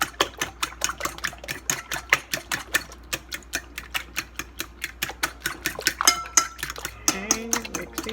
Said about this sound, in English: Okay, mix these up really good.